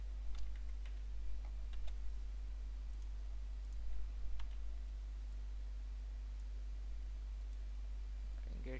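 Computer keyboard typing comes in scattered light clicks over a steady low hum, fairly faint, with short bursts of keystrokes in the first half and sparse taps afterward.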